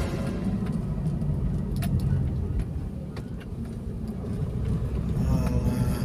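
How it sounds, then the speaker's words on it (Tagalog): Cars pass on a road in Pinsao, Baguio City, a steady near rumble of engines and tires with a few sharp clicks, fairly loud throughout. "Ngayon lang po ako nakakasalubong ng mga sasakyan dito."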